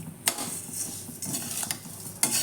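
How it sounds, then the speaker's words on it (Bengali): Whole spices fry gently in a pan over a low gas flame, heard as a faint, quiet sizzle broken by a few distinct scraping stir strokes and light metallic clinks. "গোটা মশলাকে আমি খুব ভালো করে ভেজে নেব"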